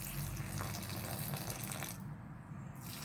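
Water pours onto zucchini and cucumber plants set in large fabric pots filled with soil, a soft, continuous splashing gush from close by that briefly thins out before resuming.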